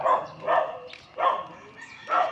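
Dog barking in a steady series of four loud, close barks with short pauses between them, heard alone without talk.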